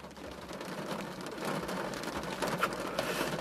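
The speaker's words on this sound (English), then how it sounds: "I was really happy that it started raining" Steady rain patters and hisses continuously, fairly close, with no voices over it.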